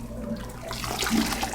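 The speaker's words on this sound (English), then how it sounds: "I'm swishing it around and pulling it out" A freshly butchered chicken is swished through water, a short close sloshing and splashing that swells toward the end.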